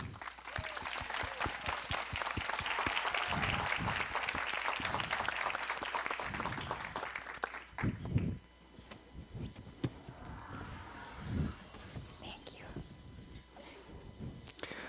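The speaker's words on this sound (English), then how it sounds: "Please, a round of applause for them." Loud audience applause at a coding tech expo fills the first eight seconds, dense and steady, then drops to faint scattered claps and room noise with a few brief sounds toward the end.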